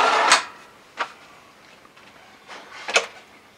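A deep pan drawer in the kitchen of a 2014 Heartland Cyclone 3800 RV, solid wood on roller bearing glides, slides and bumps shut in a few short, close knocks and rolls spread over a few seconds, with no talk.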